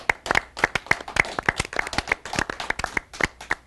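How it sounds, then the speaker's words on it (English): A studio audience claps for a television show guest, with sharp, distinct hand claps in a quick, uneven rhythm from a fairly small crowd, close and loud throughout with no voices over them. "she deserves a big round of applause"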